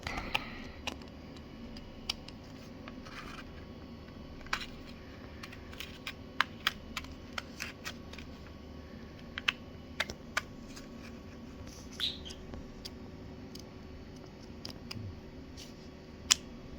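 Scissors snip through colored paper while a paper squishy shape is cut out, giving scattered, faint, irregular clicks and snips over a low steady room hum, with no talking.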